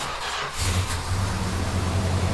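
A car engine cranks and catches, then settles into a steady, rumbling idle close by.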